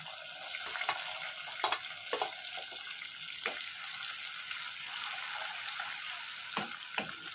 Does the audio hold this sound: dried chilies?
yes